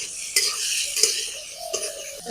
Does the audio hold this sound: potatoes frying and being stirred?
yes